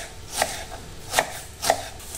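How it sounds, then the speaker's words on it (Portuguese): A knife chops a piece of vegetable on a board, three distinct evenly spaced cuts, close and clear with no talking. "Vou picando esse pedaço aqui."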